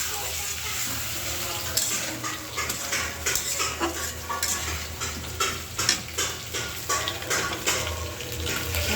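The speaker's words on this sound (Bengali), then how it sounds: "তো আমি মশলাটা ভালো করে কষাই নিই আলুর সাথে।" Spice paste being stirred with potatoes in a frying pan: steady sizzling under repeated scraping and clinking of a spoon against the metal pan, close and busy, with no voices.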